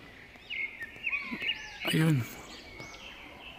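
A large bird in the wild gives a few thin, rising whistled calls at a distance, with a person speaking briefly over the middle of them.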